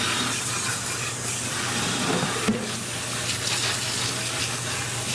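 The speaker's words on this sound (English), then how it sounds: "Grab the pan. Do the same thing. Give a little rinse." Tap water runs steadily as a pan is rinsed under it, a continuous close splashing gush.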